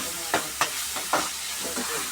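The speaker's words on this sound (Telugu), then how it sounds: "టమాటా వేస్తారు." Tomatoes go into a crab curry in a hot pan with a loud, steady sizzle and a few sharp stirring scrapes and clatters.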